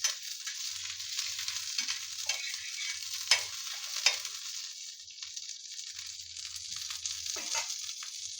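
Seer fish deep frying in hot oil with curry leaves on a low flame, a steady close sizzle and crackle with occasional sharper pops and faint stirring scrapes throughout.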